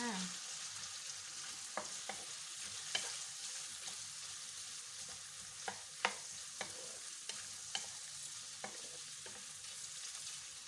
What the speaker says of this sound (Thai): ใส่หัวหอมลงไป แล้วก็ผัดนะคะ